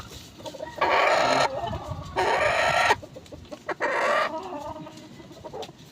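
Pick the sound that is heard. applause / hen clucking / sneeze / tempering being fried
hen clucking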